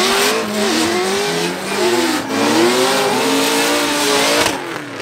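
A loud supercharged Infiniti G35 drift car engine of over 1,000 horsepower revs hard, its pitch climbing and dipping in sustained waves with a squealing edge, continuous and close.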